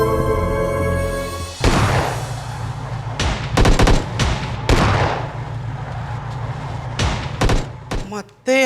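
Rapid bursts of mobile video game gunfire, several clustered volleys of sharp cracks over a steady background hum, loud and close, with a voice speaking briefly in the scene.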